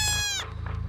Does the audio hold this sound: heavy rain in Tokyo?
no